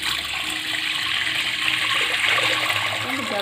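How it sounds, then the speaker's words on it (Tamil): Water pours steadily into a cooking pot for sago milk payasam, a continuous loud rushing splash with no pauses. "முக்கால் லிட்டர் தண்ணி சேர்த்துக்கலாங்க."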